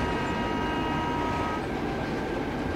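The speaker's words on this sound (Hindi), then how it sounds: "यार ये हॉर्न है ना, मुझे तो नहीं पसंद" A locomotive horn sounds in a train simulator game on the Rani Kamlapati–Adhartal Intercity Express: a sustained tonal blare over continuous rolling train rumble, steady and fairly close.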